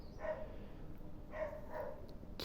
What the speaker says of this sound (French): il y a le chien du voisin